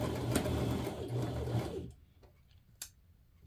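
A sewing machine runs steadily while stitching a fabric scrunchie, a dense close whir that stops partway through, followed by quieter handling noises and a couple of small clicks.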